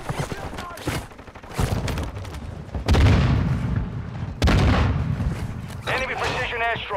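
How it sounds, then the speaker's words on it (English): Precision airstrike explosions in Call of Duty: several loud, heavy booms hit in succession, each with a sharp onset and rumbling tail, mixed with gunfire and a player's voice talking over them. "Enemy precision airstrike."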